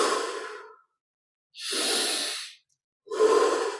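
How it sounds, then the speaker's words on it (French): Three slow breaths during guided breathing, each a soft airy rush of air exhaled through the mouth, close and alone, separated by short silences. "Expire par la bouche."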